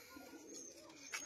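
Rajshahi local Giribaz pigeons let out a brief, soft coo, faint and close by, over quiet surroundings for just over a second.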